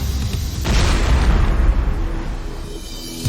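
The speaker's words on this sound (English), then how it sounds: "Two-stage rockets propel the aircraft down a 300-foot-long sled track." Two-stage rockets roar as they drive an aircraft down a 300-foot rocket sled track in a crash test. A loud, deep, rumbling blast swells in and then fades, with no talking.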